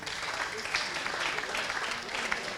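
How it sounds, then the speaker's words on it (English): An audience claps steadily for the coaches at an event, dense applause running throughout at moderate distance with a little crowd murmur and no speech over it. "The coaches also deserve a big round of applause."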